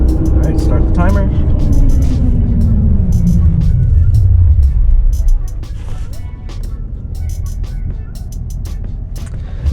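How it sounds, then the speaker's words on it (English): Interior drone of a lifted Ram Rebel 1500 pickup decelerating from 40 mph to a stop, engine and road rumble sliding steadily lower and fading as it halts, with small clicks and rustles. "I'm gonna do a little 40 to 0 stop for you guys so you can see firsthand."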